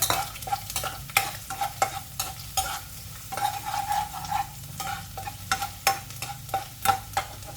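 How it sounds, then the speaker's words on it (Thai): Minced garlic frying in a pan with oil, a steady sizzle under repeated clacking strokes of a spatula stirring, close and fairly loud, with no talking. "ใส่กระเทียมสับลงไปเจียวก่อน"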